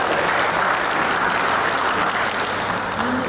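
A gathered audience at a retirement function claps steadily and loudly, a continuous close wash of applause filling the room for a few seconds with no pause.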